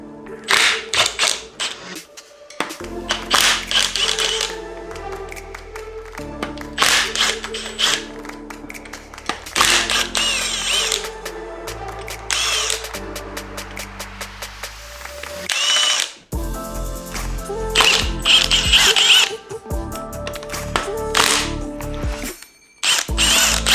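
A Milwaukee power tool zips engine bolts off an RB26 in repeated bursts of whirring and ratcheting, close and loud, separated by short pauses, with occasional clinks and handling noises between.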